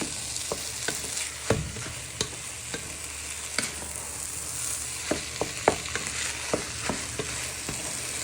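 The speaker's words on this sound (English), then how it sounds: "So we're just frying the rice in with our mince and vegetables." Steady sizzle of rice frying in a pan with pork mince and vegetables, with repeated sharp scrapes and clinks of a utensil stirring, irregular taps scattered throughout.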